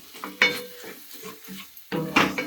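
Spices being stirred with bottle gourd in a pan, a few scraping, sizzling stirs in bursts with short pauses between, close and fairly quiet.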